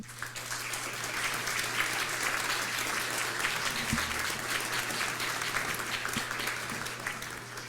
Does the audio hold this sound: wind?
no